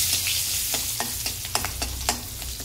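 Whole cumin seeds and green chillies tempering in hot oil, a continuous bright sizzle close by with scattered small pops and crackles, no speech.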